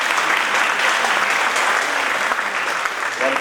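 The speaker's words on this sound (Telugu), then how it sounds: "ప్రతి నమస్కారాలను చప్పట్ల ద్వారా తెలియజేయవచ్చు." Dense, loud applause from an audience fills an award ceremony hall, a continuous even clatter of many hands clapping together throughout.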